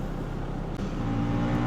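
Road traffic heard from inside a delivery vehicle, a steady close engine rumble and passing cars forming a continuous low roar with a brief dip midway.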